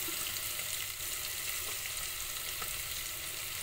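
Ginger sizzles steadily in hot oil alongside meat that is already well cooked, a constant bright hiss with faint stirring taps, fairly quiet and with no voices.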